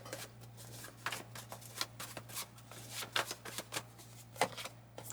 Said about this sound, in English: I'm dropping the cards